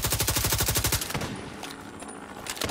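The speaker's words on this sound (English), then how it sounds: "Firing on target." Rapid automatic gunfire from The Division 2, set in New York, opens the clip as a loud, close burst of evenly spaced shots, then breaks off into scattered echoing reports before a few more shots at the end.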